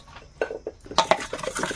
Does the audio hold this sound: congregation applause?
no